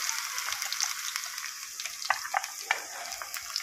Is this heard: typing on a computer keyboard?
no